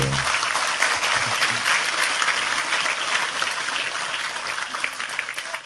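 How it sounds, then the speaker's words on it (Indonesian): A crowd at a gathering with Cak Nun and Sudjiwo Tejo gives loud, dense applause for Tejo, a steady wash of clapping that holds throughout and tapers slightly at the end. "Sekali lagi tepuk tangan lebih keras untuk Tejo."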